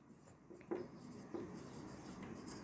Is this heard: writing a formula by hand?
yes